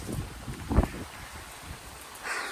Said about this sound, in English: we're still just getting strong gusts of wind